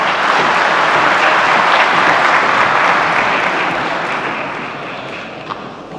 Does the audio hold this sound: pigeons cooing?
no